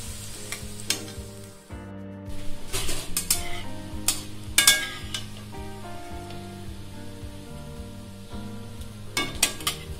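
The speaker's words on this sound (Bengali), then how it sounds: "এবার কুচানো আদা দিয়ে দেবো। আদাটা ভালো করে ভেজে নিতে হবে।" Chopped ginger frying in hot oil in a pan, a continuous bright sizzle with frequent metal spatula strokes and clinks against the pan, close and clear with no talking.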